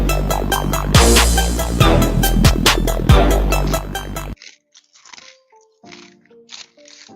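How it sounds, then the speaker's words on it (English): Loud, close crunching of potato chips being chewed, with rapid bursty crackles for about four seconds, then a quieter stretch of sparse crinkles and rattles from the chip bag. "Now my chip chewing is too loud."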